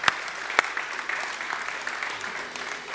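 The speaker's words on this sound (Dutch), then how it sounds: "maak een hartelijk applaus voor Thomas de Koning" Warm applause greets Thomas de Koning at a Dutch internet-standards event, a steady clatter of clapping from a modest audience with a couple of sharp louder claps near the start.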